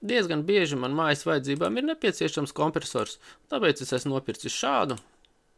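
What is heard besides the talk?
No everyday noises stand out.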